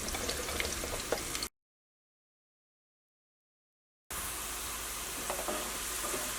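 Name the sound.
onions frying in sunflower oil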